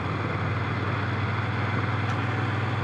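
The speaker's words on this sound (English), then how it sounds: "you can hear the mechanical functions of it, the valves tapping away and everything" A 2021 Moto Guzzi V7 Stone engine idles steadily at close range, a low even throb under a broad mechanical hum with light valve ticking.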